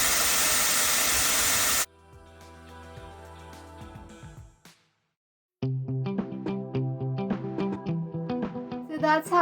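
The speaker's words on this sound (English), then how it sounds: "I'm going to go with max heat and max fan strength. So let's go. Oh, quite a powerful machine." A Dyson Airwrap hair styler on maximum heat and maximum fan speed blows a loud, steady rush of air for about two seconds, then cuts off, with quieter tonal music following.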